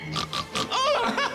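A man imitates a pig's oink with his voice as a comic spell effect: a few short nasal grunting bursts in quick succession, close and fairly loud, mixed with speech-like vocal sounds.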